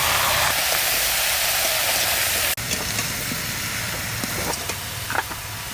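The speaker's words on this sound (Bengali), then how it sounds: "সর্ষের তেল দিয়ে দিচ্ছি শুধুমাত্র জিরে ফোড়ন দেবো" Cumin seeds tempering in hot mustard oil, a loud, steady sizzling hiss that cuts off briefly midway and resumes slightly softer, with a few small crackles and pops.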